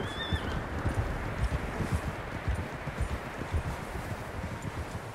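A horse in the video game Red Dead Redemption 2 gives a high whinny near the start, followed by a steady patter of hooves clip-clopping at moderate volume, with no talk.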